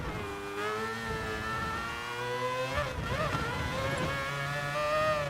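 A race car engine in GT Sport at Le Mans drones at high revs, then changes pitch quickly around the middle as the car shifts up, and the engine whine climbs again steadily and close.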